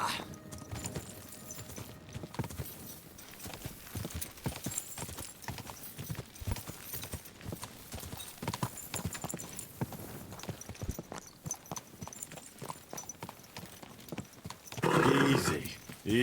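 Horse hooves clip-clop steadily in Kingdom Come: Deliverance II, with a louder neigh bursting out near the end over the game's background ambience.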